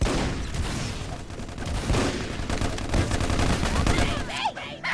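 Rapid rifle gunfire from a MicroVolts team match, dense overlapping bursts of shots rattling continuously throughout at close range, with a voice speaking beneath the shooting.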